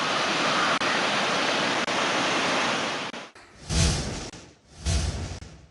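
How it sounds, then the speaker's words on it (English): Water pours through two spill gates of the Mahaweli Dam at Polgolla, each open two feet, into the Victoria Reservoir. A loud, steady roar lasts about three seconds, then breaks into two swelling surges. "2 spill gates of the Mahavali Dam in Polkolla remain open by 2 feet each, releasing water into the Victoria Reservoir."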